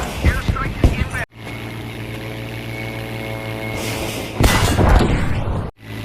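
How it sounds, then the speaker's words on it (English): Airstrike explosions in Battlefield V with a P-51D Mustang, loud booming blasts and engine drone that cut off sharply twice, with surges of noise between the cuts. "Airstrike is inbound."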